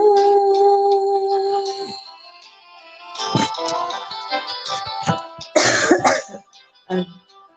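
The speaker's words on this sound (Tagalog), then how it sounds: "Ay, isa ubo na." Several sharp coughs and throat-clearing bursts come in a loose cluster, close and fairly loud, following a sustained musical tone at the start.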